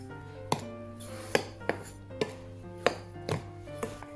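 A spoon mixes rice flour with sugar, urad flour, salt and turmeric in a bowl, making about eight sharp, quiet knocks against the bowl at irregular intervals. There is no talking.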